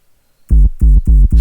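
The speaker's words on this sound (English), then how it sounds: "The sub is basically just a normal sine wave" Deep sub bass synth built from a plain sine wave, played as a run of loud, heavy low pulses in quick succession after a brief near-silence.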